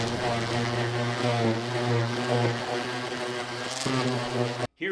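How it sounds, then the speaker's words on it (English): A palm sander runs steadily over the leather side of a tanned beaver hide, a close, continuous motorized hum with a buzzy tone that cuts off abruptly at the very end. "we're just going to go over with the palm sander, smooth everything out, give it a really nice appearance."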